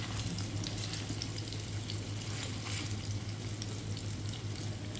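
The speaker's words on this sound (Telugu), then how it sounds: "మొత్తం చికెన్ అంతా అలా సెట్ చేశానండి. చక్కగా వేగుతుంది." Chicken pieces for Szechuan chicken fry in hot oil, giving a continuous close crackling sizzle at an even level throughout, with no voices.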